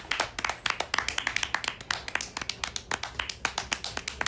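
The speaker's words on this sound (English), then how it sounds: "Then applause. Not loud and wild, but steady, respectful." Steady, respectful applause fills a school assembly, individual claps sharp and distinct in an even rhythm rather than a loud roar, continuing at a moderate level.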